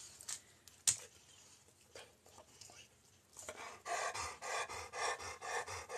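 A dog pants rapidly nearby, a quick steady rhythm of breaths building over the last few seconds after scattered rustling and handling noises, fairly quiet with no talking.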